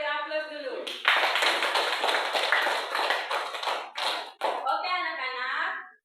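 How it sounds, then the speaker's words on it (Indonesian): Classroom applause for classmates, a burst of many hands clapping in dense rapid patter for several seconds, with children's voices talking before and after. "Oke, kita beri aplaus dulu."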